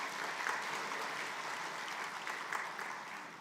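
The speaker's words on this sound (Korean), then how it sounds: "우리 성가대 박수 좀 쳐주세요." A church congregation claps for the choir during a Sunday worship service, a steady, moderately soft wash of many hands that stays even throughout.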